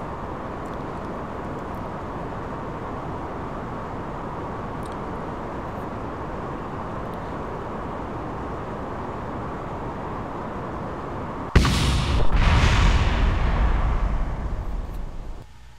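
A rocket launches in Kerbal Space Program, with a steady low rumble that gives way to a sudden loud roaring burst of engine thrust that holds strong for several seconds before easing off.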